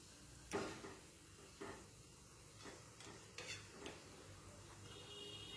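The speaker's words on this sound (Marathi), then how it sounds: "या प्रकारे गुलाबजाम सर्व तळून घ्यायचे आहेत, मात्र मंद गॅसवरच तळायचे आहेत" Gulab jamun made with khoa fry in oil over a low gas flame, giving a faint, steady sizzle with a few soft stirring and utensil taps.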